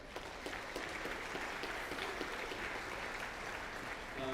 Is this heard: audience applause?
yes